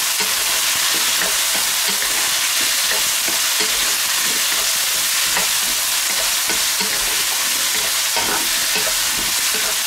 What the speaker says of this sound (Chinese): 炒香之后下入土豆，